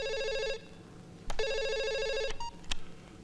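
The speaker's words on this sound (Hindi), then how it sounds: "फोन आएगा खुद समझ में आ जाएगा आपको।" A telephone rings loudly in two long electronic bursts separated by a pause, with a few sharp knocks and clatters between and after the rings.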